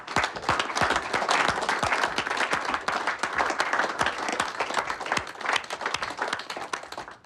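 An office team in a film scene claps steadily for several seconds, with dense overlapping handclaps forming continuous applause and no voices over it.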